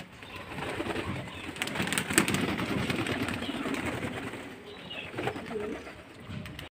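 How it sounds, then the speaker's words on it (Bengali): Pigeons coo steadily while female and young birds bathe, with splashes and fluttering wing flaps mixed in at close range over a continuous low murmur of the flock. "আর পায়রাগুলো এখন চান করছে"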